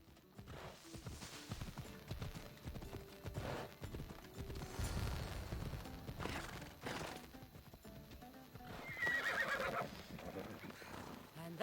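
Horse galloping and neighing in the video game Assassin's Creed Odyssey, with hooves drumming steadily and a whinny rising near the end, all mixed with game music and ambient noise.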